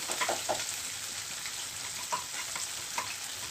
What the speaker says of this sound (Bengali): পেঁয়াজ কুচিটা দিয়ে দিলাম দুটা, এটা ভালো করে নেড়ে দিব